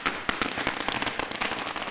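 Fireworks and firecrackers go off during a street celebration in Varanasi, India, a rapid, irregular string of sharp pops and bangs close by.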